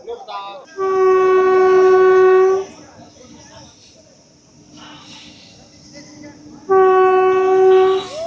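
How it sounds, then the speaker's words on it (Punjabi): A train arriving at a station with a Sikh gurdwara nearby, sounding two long, loud, steady horn blasts separated by a quieter stretch of rumble and crowd noise. "ਫਾਈਨਲੀ ਅੱਜ ਇਹ ਟ੍ਰੇਨ ਆਣੀ ਆ ਅੱਜ ਤੋਂ ਪਹਿਲਾਂ ਕਦੀ ਇੱਥੇ ਨਹੀਂ ਰੁਕੀ"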